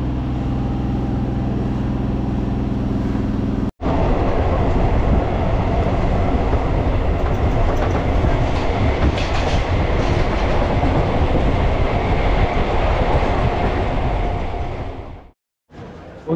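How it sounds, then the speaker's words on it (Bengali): A passenger train running along the rails into Santragachi station, a loud, continuous rumble with rhythmic clickety-clack of the wheels, heard close by from inside the train and cutting off near the end. "এখন ট্রেন এসে ঢুকলো সাঁতরাগাছি স্টেশন।"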